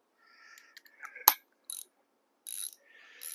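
A ratchet with a 19 socket working on a motorcycle fork of a 1991 CR125, giving a few short, close clicking bursts separated by pauses, quiet and with no talk.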